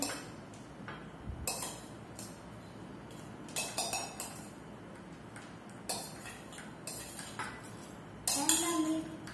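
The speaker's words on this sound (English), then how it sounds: "Then we mix milk." A spoon stirs milk into a mango shake, clinking and tapping against the glass or vessel in irregular light ticks, close by and fairly quiet, with a brief faint voice near the end.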